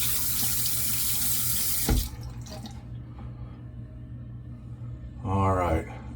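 Tap water runs steadily into a sink to warm a shaving razor, a continuous close rush that stops abruptly partway through, followed by quieter handling sounds and a brief voice near the end.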